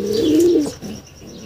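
Pigeons coo in a loft with one close, loud, throaty call that swells and fades within a second, and a fainter stir follows.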